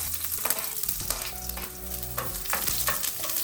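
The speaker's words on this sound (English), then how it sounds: "I'm going to put the onions in there" Onions frying in a pan over low heat outdoors, a steady close sizzle with scrapes and stirring clatter recurring every second or so, no voices.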